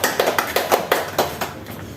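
A few sharp, spaced claps during an online English grammar class, a small, close, sparse pattern of separate handclaps with no talking.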